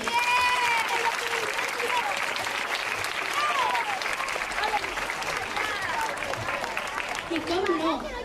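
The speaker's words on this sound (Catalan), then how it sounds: "un fort aplaudiment per a ells" Steady, full applause from a school audience at a 2013 community gathering, loud and sustained for the whole stretch, with faint crowd voices and whistles mixed into the clapping.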